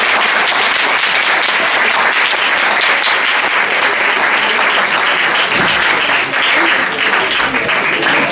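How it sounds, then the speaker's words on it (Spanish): Students in a crowded high school auditorium give a playwright a long, vigorous ovation, dense and even clapping that stays loud throughout. "Vamos a darle un aplauso muy fuerte"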